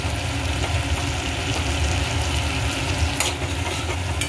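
Spice paste for a fish-head chhyachra with pui shak and catla sizzles and crackles steadily in the pan under a low, continuous hum, with one sharp scrape of stirring near the end.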